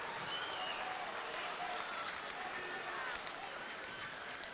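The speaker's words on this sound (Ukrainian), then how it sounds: "заслужені оплески місцевих вболівальників на адресу молодого голкіпера" Home football supporters applaud a young goalkeeper after a double save in a Ukrainian First League match, a broad wash of distant stadium clapping under a commentator's talk.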